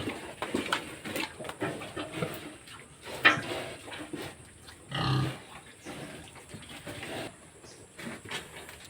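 A sow grunts in short, low bursts at moderate distance, with scattered farmyard noise and shuffling around it.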